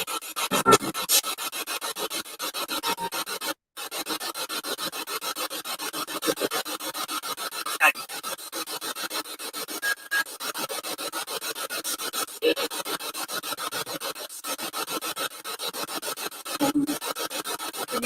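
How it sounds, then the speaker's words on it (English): Spirit box radio sweeping through stations, producing continuous rasping static in choppy rapid bursts with a short dropout, steady and fairly close. "Can you guys hear the spirit box?"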